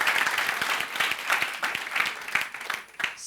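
Dense, sustained audience applause at an event, many hands clapping loudly and steadily for the whole stretch, with no speech over it.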